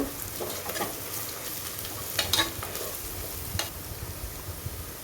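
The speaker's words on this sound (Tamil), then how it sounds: "வெறும் மிளகாய்த்தூள் நான் இந்த எண்ணெயிலே சேர்த்துக்கிறேன் சேர்த்து நல்லா வதக்கி விடணும்" Chili powder fries in hot oil for tomato basmati rice, giving a steady sizzle with occasional scrapes from stirring.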